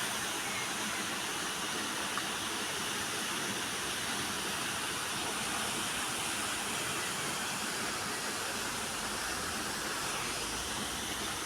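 A waterfall gives off a steady, broad roaring rush without letup, heard from some distance away with no talking, near a small town in Italy.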